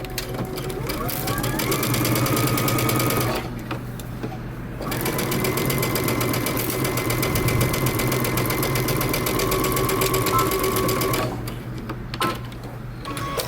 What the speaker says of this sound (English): we're going to stitch our shoulders together front to back using 5/8 of an inch seam allowance